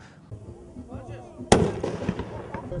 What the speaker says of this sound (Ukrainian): Вибухи, постріли та димові шашки